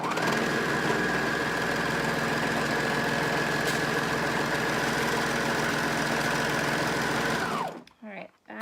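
Sewing machine hemming a garment at home, humming steadily and loudly for about seven and a half seconds before stopping abruptly, followed by a few soft handling noises.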